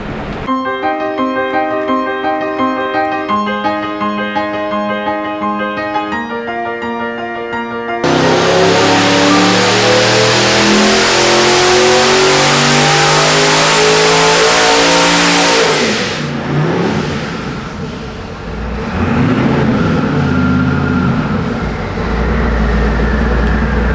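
A 1150-horsepower twin-turbo LSX V8 built by Nelson Racing Engines revs hard and close in a loud, roaring burst that winds down in pitch, after several seconds of music with no engine.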